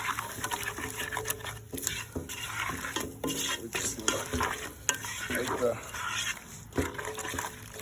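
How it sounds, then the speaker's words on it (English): Coconut chicken curry sizzles and crackles steadily in a hot pan as water hits it, with a spoon stirring and scraping against the pan throughout, close up. "We're going to add a little bit of water. To let that start sizzling."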